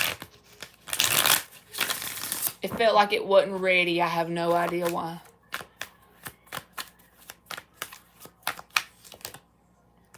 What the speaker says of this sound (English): We gotta shuffle it one more time.